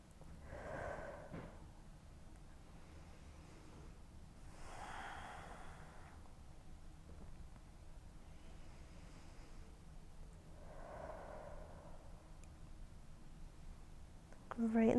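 Slow, deep breaths during a beginner yoga flow for hips and hamstrings: three soft inhale-exhale swells, spaced several seconds apart in a quiet room.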